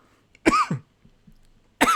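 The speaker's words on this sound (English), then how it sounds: "I made myself laugh into a coughing fit" A few harsh coughs from a person caught in a laughing coughing fit, two quick bursts close together, a faint rasp after them, then one more loud cough after a short quiet gap.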